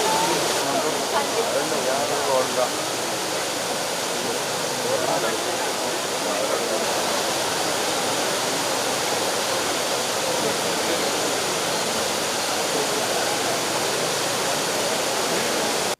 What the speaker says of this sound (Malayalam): മണലിപ്പുഴയിലേക്കാണ് ഈ വെള്ളം ഒഴുക്കുന്നത്.